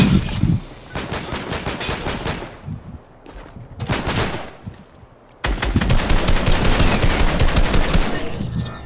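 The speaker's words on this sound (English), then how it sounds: "We're getting shot at." Rapid bursts of automatic gunfire in Fortnite, loud and close, coming in several separate volleys with short gaps, ending in a sustained stretch of continuous shooting.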